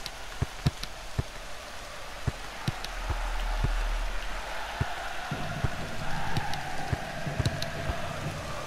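Rain falls steadily during a match in the Active Soccer 2 DX football video game, a constant soft hiss with sharp ticking taps scattered through it.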